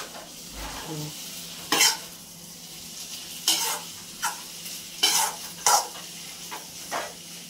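A vegetable curry with mutton masala is stir-fried in a pan over a low, steady sizzle, with repeated loud scraping bursts from the stirring spoon at irregular intervals.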